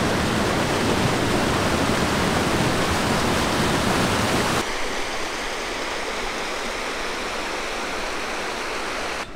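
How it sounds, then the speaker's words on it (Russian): A multi-tiered waterfall of clear water roars as a steady, loud, dense rush, dropping to a somewhat softer, thinner flow partway through, with no voices. "Водопад из нескольких частей."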